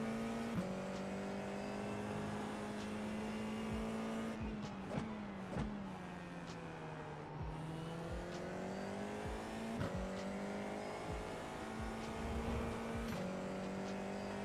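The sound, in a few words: race cars driving in iRacing sim racing video game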